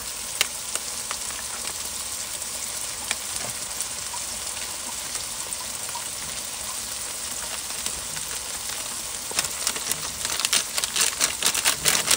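Chopped tomato and chilli with spices frying in a pan after onion, garlic and ginger, a steady dense sizzle and hiss running throughout with occasional sharper crackles and stirring clicks, growing slightly louder near the end.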